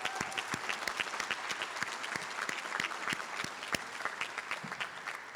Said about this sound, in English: give Lita a round of applause